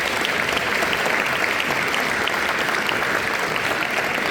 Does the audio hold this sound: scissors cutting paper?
no